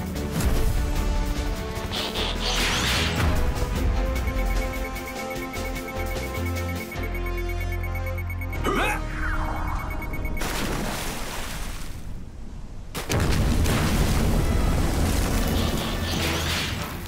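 Cartoon explosion effects from a Transformers Rescue Bots episode: loud booming blasts and crashing bursts over a music score, with a rising whoosh midway and a second heavy blast near the end.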